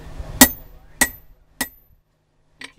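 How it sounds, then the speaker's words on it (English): Three sharp hammer strikes ring out about half a second apart while forging a belt axe from coil spring steel, followed by a fainter, softer tap after a pause. "So when you're forging"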